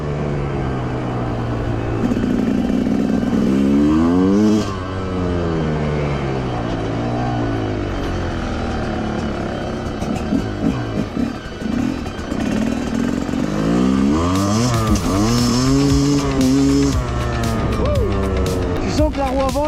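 A 2021 Rieju MR 300cc two-stroke enduro motorcycle rides close by, its engine revving up and down in rising and falling sweeps with sharp throttle blips, loud and continuous throughout.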